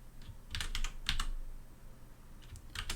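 Quick clusters of keystrokes on a computer keyboard, close but quiet, in two or three short bursts with a pause between them.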